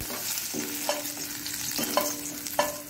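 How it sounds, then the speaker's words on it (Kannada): Five or six garlic cloves frying in a pan, a steady close sizzle broken by three or four sharp scrapes and taps of a spatula against the metal, no speech. "ಸ್ವಲ್ಪ ಬೆಳ್ಳುಳ್ಳಿ ಒಳ್ಳೆ ಫ್ರೈ ಆಗಬೇಕು"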